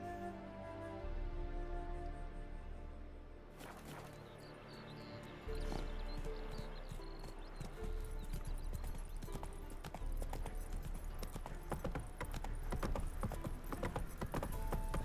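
Horse hooves clip-clopping in The Witcher 3, a steady, fairly close rhythmic trot that runs under layered game music and ambience for most of the stretch.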